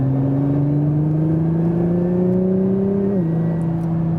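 A Nissan GT-R facelift with 570 hp accelerates in R mode, its engine droning loud and close with a steadily rising pitch, then a quick drop as it shifts gear near the end.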